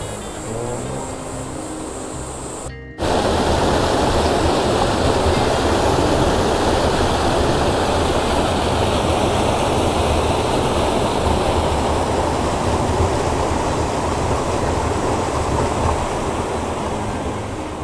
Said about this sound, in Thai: นี่ก็จะเป็นน้ำตกนะครับ